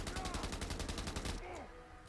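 A Bren gun in Fallout 4: London fires a rapid, evenly spaced burst of close, loud automatic shots for over a second, then stops and leaves a short tail of game ambience.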